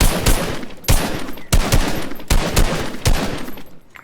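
Rapid gunfire from the video game Fortnite bursts in several loud clusters of shots, each volley a sharp crackling run of reports with brief gaps between them.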